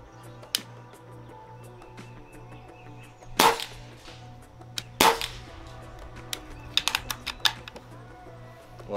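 A pneumatic air gun firing pellets: two sharp, close cracks a second or so apart, followed by lighter clicks and taps of handling and loading.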